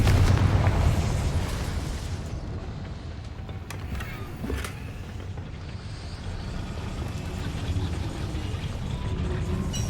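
A Confringo fire spell bursts in Hogwarts Legacy, a loud booming blast at the start that rumbles and fades, followed by smaller crackles and a sustained low roar.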